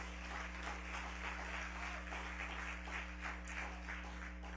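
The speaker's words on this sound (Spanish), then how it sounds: "Denle un fuerte aplauso a Jesús." Crowd applause fills a church in honour of Jesus: dense, steady clapping from many hands, fairly faint and even over the whole stretch, with a low steady hum underneath.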